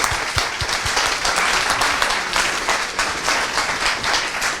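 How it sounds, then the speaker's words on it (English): A live audience at a panel event in a bookshop claps in thanks to the panelists, a dense, steady wash of many hands applauding close by for several seconds with no talking over it. "could you please clap your hands and thank them for their time"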